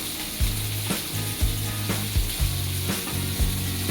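Green chillies fry in a pan with a steady, close sizzle and crackle, joined by rhythmic scraping and stirring strokes about twice a second.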